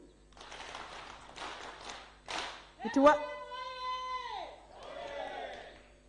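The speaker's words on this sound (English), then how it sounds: "Can you clap for him?" An audience at a political retreat for newly elected NRM MPs claps and cheers in short, moderate bursts. A loud, sustained horn-like tone cuts in midway, with more crowd noise near the end.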